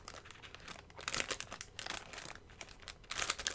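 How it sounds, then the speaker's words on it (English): Sticker sheets being pulled from crinkly plastic packaging, a close, quiet series of irregular crackling rustles in short bursts. "I'm taking them out of the crinkly part here."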